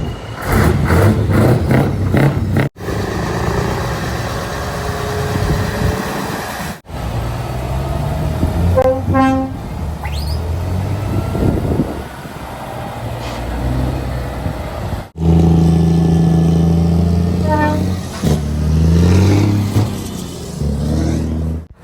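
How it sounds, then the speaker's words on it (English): Trucks pull away from the Ciney truck show in Belgium, with loud engines revving and accelerating close by, repeated horn blasts, and a steady stream of heavy vehicles rumbling past one after another. "everyone races outside to see all the trucks leaving the show"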